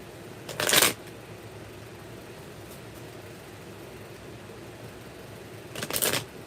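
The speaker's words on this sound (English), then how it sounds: "One more shuffle for the Taurus couples." Two short riffle shuffles of a tarot deck, one near the start and another several seconds later, each a crisp, close fluttering burst against a quiet, steady room background with no speech.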